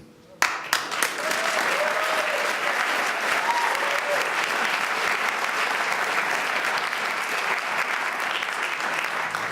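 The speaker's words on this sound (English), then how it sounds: "a big round of applause for those guys" Sustained applause from a large audience for the finalists of a college elevator pitch competition, steady and dense throughout, with a few faint cheers mixed in.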